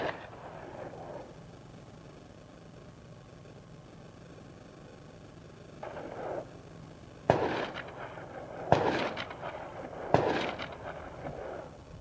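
Gunshots fired outdoors during preparation for Hurricane Rosa: one softer bang, then three sharp, loud reports spaced a second or so apart, over a low steady engine-like hum.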